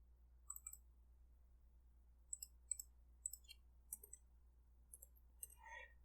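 Mouse clicks on a computer while working in Oracle SOA 12c software, faint and isolated: scattered single and double clicks, about a dozen in all, over a quiet low hum.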